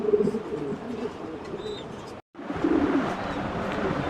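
Pomeranian pigeons in Rajib's loft give low, steady murmuring coos close by, broken by a momentary dropout in the sound, with no talking.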